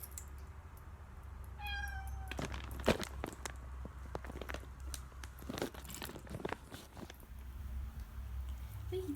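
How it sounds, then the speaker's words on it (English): A pet cat in a nearby room gives a single short meow in a quiet indoor setting, followed by soft scattered taps and light crunching sounds. "that was my cat in her room"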